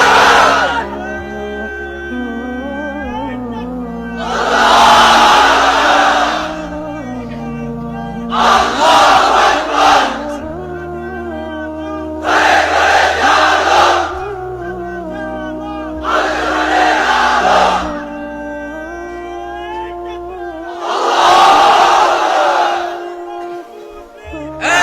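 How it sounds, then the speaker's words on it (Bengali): A large crowd chants the takbir in loud unison, a leader's amplified voice alternating with five or six roaring group responses spaced a few seconds apart. "এবার অবিবাহিতরা দাও লিল্লাহি তাকবীর"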